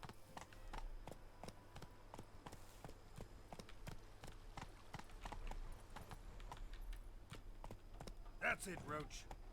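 Hooves of the horse Roach clip-clop steadily at a walking pace in the Witcher 3 video game, a regular tapping series over background game ambience, with a brief louder burst near the end.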